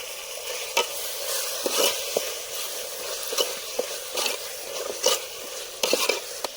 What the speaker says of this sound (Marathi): तर फ्राय केलेला कांदा थोडासा टाकूया